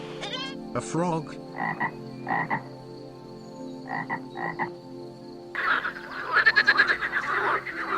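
A frog croaks in short rhythmic bursts, paired pulses repeating across the stretch, close and distinct, before a denser chorus of rapid croaking fills the last few seconds.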